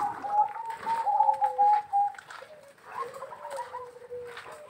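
A perkutut (zebra dove) coos in a soft, rolling series of trilled notes, close by and fairly quiet, with no voices over it.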